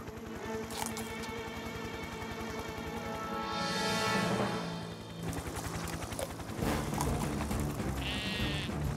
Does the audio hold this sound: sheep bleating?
yes